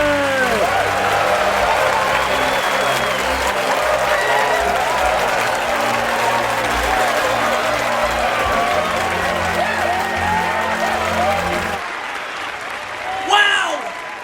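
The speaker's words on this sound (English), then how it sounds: "Let's give a big round of applause" Loud, dense applause and cheering fill a New Year's countdown show, steady for about twelve seconds before fading out, with a few voices calling over the tail end.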